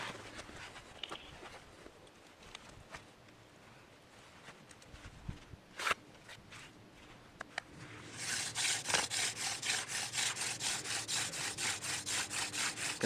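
A wooden spindle is spun between the hands on a wooden board for hand drill friction fire, first scattered scrapes and taps, then a steady rhythmic back-and-forth grinding rasp, close and growing louder.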